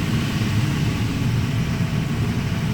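A VW Jetta VR6 engine held steadily at around 2,000 RPM with a ticking fault, a loud, constant close-up rumble and hum without speech.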